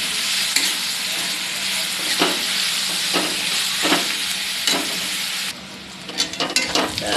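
Chopped onions sauté in a hot pan, a loud continuous sizzle broken by regular spatula scrapes and stirs, easing slightly near the end, with no speech.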